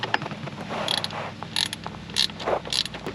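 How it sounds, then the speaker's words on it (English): A ratchet tightens bolts fastening an AC clutch onto a compressor pulley, producing several short, separate clicking bursts close by over faint background noise. "now we're going to bolt it onto the pulley."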